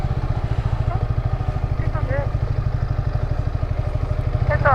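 A motorcycle idles close by while parking at a beach resort in Zambales, giving a fast, even thumping beat throughout, with brief voices in the background.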